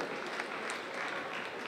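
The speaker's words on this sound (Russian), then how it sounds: "Ваши аплодисменты." Audience applause at a stage comedy league show: a dense, steady wash of many hands clapping, fairly faint and distant, with no break.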